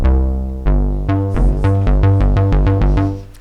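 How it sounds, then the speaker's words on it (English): Synth bass line recreating Yazoo's "Don't Go" on the DRC synthesizer: loud, close, buzzy staccato notes in a driving repeated pattern that quickens into rapid even pulses, played alone with no talking. "start with the bass, which sounds something like this."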